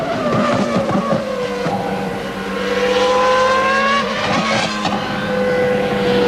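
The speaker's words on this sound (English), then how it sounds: "Schumacher will be approaching that spoon curve in just a moment. Uphill right-hander. And now flying down into the corner" A 1995 Formula One car roars past at Suzuka near the Spoon Curve, its engine wailing loud and continuous with a rising and falling pitch as it flies downhill into the corner.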